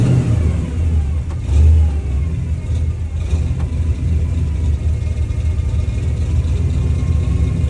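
An off-road vehicle's carbureted V8 engine, Edelbrock or Quadrajet carb, runs close up with a steady loud rumble, rising briefly in a rev near two seconds before settling back to a rough, even idle.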